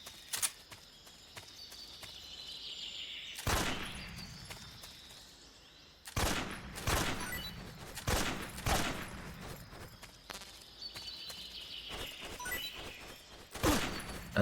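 Gunfire from a weapon being hip-fired in Metal Gear Solid 3 comes as sharp, loud bursts and single shots spread irregularly over a quieter ambient background.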